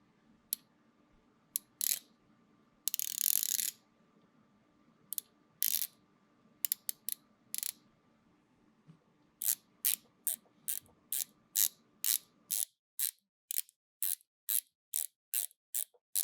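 Distinct ratcheting clicks from a rotating dive watch bezel, comparing an Omega Seamaster Professional 300 and a Breitling SuperOcean II 44mm, sharp and close, scattered at first then falling into an even run of evenly spaced clicks, alone without talk.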